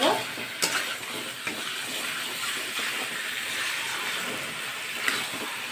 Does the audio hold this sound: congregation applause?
no